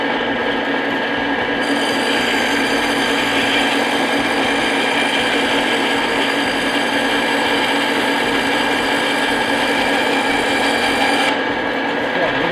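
A bandsaw runs steadily in a prop shop, its blade slicing through foam with a continuous loud whirring hum that stays even from start to finish.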